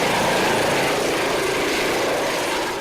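Fire department rescue helicopter at a school bus crash scene on a highway, a steady loud rotor and engine drone that continues without break and fades slightly toward the end.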